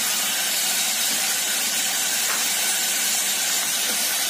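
Pigeon gizzards being sautéed in a hot pan sizzle as a loud, dense, continuous hiss that stays even from start to finish.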